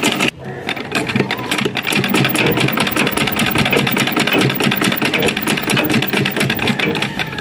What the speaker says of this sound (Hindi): अब हम दरमियान में सिलाई लगाएंगे।